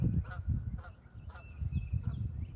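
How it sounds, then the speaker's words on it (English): A lone goose on a rural homestead honks several times in a loose rhythm, moderately distant and fairly soft against quiet outdoor background noise. "That goose should not be by itself"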